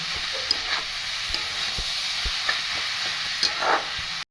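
Cabbage stir-fried in a wok, a continuous close sizzle with occasional spatula scrapes and light knocks as it is tossed around the pan, no voices.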